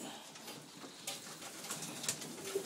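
Pigeons in a breeding loft give soft, low intermittent coos over a steady airy background, fairly quiet and close, with a few faint chirps scattered through.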